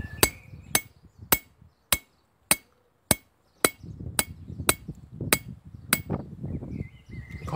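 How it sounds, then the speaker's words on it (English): Bronze being peened with a hammer outdoors to close a small gap: about eleven sharp, ringing metallic strikes at a steady pace, close and loud. Low rumble and wind noise fill the gaps between blows. "I'm hammering the bronze that way a bit to close the gap"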